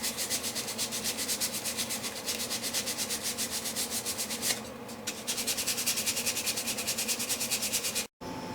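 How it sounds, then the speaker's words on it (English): A wooden guitar brace is sanded with a steady run of close, rhythmic back-and-forth rasping strokes, broken by one brief pause near the middle and a sharp cut near the end. "I sanded it at a little bit of an angle where it's going to go into the brace."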